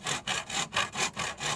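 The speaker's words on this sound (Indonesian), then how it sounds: "Oke, jadi digergaji dulu." A hand saw cuts through bamboo while building a rabbit cage, six or seven rhythmic rasping back-and-forth strokes, close and fairly loud.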